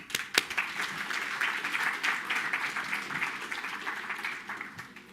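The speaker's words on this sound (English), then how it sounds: "Let's clap for UJ." An audience at a sustainable infrastructure development symposium in South Africa claps for UJ after an MOU signing, a moderate round of applause opening with a few sharp claps and then settling into an even mass of clapping.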